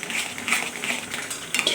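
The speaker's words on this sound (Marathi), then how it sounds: "तर असं सतत हलवत राहायचं आहे" A spoon scrapes and clinks against a kadhai while carrot halwa is stirred, giving a close, steady run of metallic scrapes and taps with no voices.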